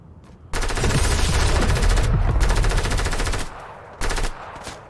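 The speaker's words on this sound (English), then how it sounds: "Where's all this gunfire coming from?" Rapid automatic gunfire in the Fortnite video game, a long, loud, continuous burst of fast shots followed by a quieter tail and a second short burst.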